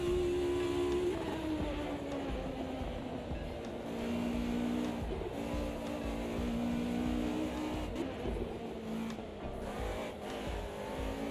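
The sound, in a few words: race car engines in a sim racing video game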